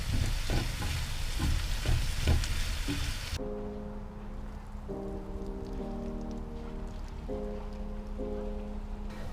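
Vegetable noodles with teriyaki sizzle in a pan at a campsite, a crackling fry with stirring scrapes that soon drops to a softer sizzle under a steady low hum.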